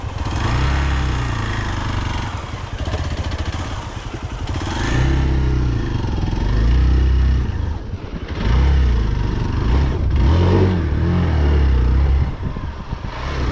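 A motorcycle engine runs loudly and steadily close by on an outing to Kailasagiri hill near Chintamani, with a low, throbbing rumble that surges and dips several times.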